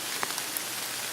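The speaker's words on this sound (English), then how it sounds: "It's been raining all day long" Steady heavy rain falls outdoors at a bow-hunting camp, a dense continuous hiss with a few brief drip taps, loud and close, with no voices.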